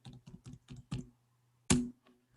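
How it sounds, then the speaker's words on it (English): Keys tapped on a computer keyboard in a quiet room: a quick run of five even keystrokes, a short pause, then one louder key press, close and clear with no talk. "So I'm typing var Python."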